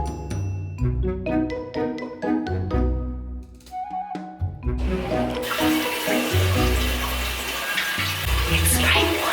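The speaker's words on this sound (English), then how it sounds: "It's spraying water at me" A Korean bidet toilet sprays water in a steady hissing rush that swells after a few seconds, close and fairly loud, following earlier tonal beeps and mechanical whirring.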